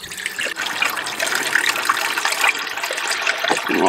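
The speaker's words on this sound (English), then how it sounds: "And I just let that drain all the way to the bilge." Water drains from a boat's water heater down into the bilge of a Ranger Tug R27ob during winterizing, a steady close gushing and trickling flow that continues without a break.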